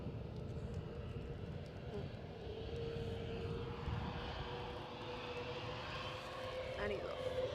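A British Airways airliner departs Edinburgh airport bound for London Heathrow, its engines giving a steady, loud roar throughout with a faint tone above it, heard up close from the spotting position while people talk over it.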